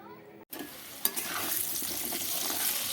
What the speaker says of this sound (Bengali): বন্ধুরা আমি আলুটা ভাজা শুরু করে দিয়েছি আলুটা কিন্তু লাল লাল হয়ে গেছে